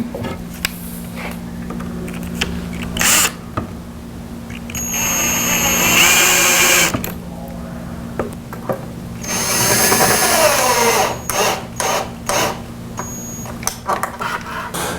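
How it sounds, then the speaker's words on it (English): A power drill drives a screw into a wooden tripod floor lamp leg in a woodworking shop, two loud whirring bursts close by with shorter clicks and handling knocks between them. "whenever they tack, he'll be able to drive the screw to attach it"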